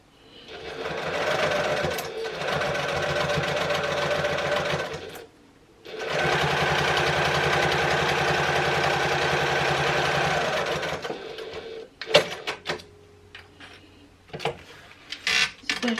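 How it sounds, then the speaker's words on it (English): A sewing machine stitches the edges of a small fabric pouch at a quarter-inch seam, two long steady runs of motor whir and rapid needle thumping with a short pause between, then a few clicks and handling noises. "So right sides together, making sure they match up those edges, and stitch down"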